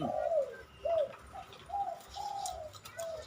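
A series of soft dove coos repeats in an uneven rhythm, moderately distant and faint, against quiet outdoor background noise.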